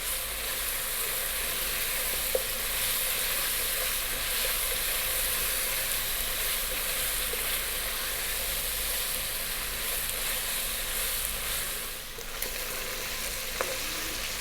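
Eight whole black olives, stones still in, fry in a pot on high heat for a beef vegetable stew, giving a loud, continuous close sizzle and crackle that runs unbroken with no talk.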